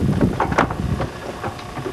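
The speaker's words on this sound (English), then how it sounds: "The wind comes variably from all directions." Gusty wind at sea off Cape Horn buffeting a sailing boat, a loud blustery roar with rushing surges and microphone wind buffeting throughout.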